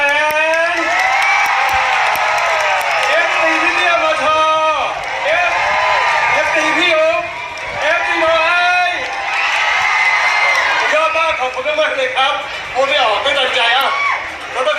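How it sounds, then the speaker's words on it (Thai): Dense, loud audience applause and cheering fill a crowded pet event, with continuous clapping, whoops and shouts sustained throughout, and voices mixed into the din. "ขอเสียงปรบมือให้กับ ชาวเอ็นซี ลุงพลป้า"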